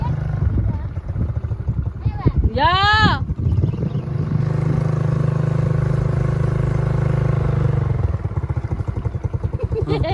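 Motorcycle ridden along a rural road near rice fields, its mid-pitched engine droning steadily close by with a brief rev, while people talk loosely over it throughout.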